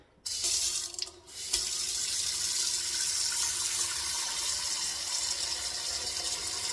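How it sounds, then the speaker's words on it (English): Water runs steadily from a tap, a continuous close splashing rush that fills a pot without pause. "I'm just going to set this aside and add my water in."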